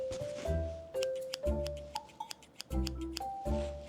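Scissors cut several times up close, soft snips with light clicks, fairly quiet and evenly spaced.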